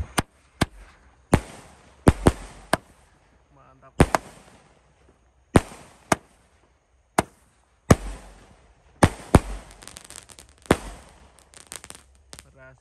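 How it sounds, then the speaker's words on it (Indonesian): Roman Candle Box Dragon King fireworks firing at night, a series of sharp pops and bangs spaced unevenly, some in quick pairs or clusters, loud and near with brief crackling tails. "Selanjutnya kita nyalakan mercon Roman Candle Box Dragon King."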